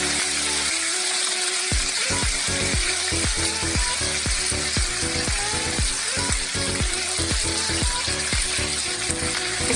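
Oil spatters and crackles loudly in a covered pan where morcilla sausages fry for baked rice, a dense continuous sizzle broken by rapid irregular pops and clicks, close by, with no talking.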